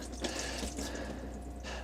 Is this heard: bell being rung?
no